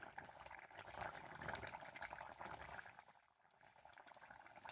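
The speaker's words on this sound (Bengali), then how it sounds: "ধনেপাতা দিয়ে একটু ফুটিয়ে নেবো।" Fish curry gravy made with khoira fish and brinjal bubbles at a steady boil after coriander leaves are added, a continuous close simmering hiss with a brief dip near the end.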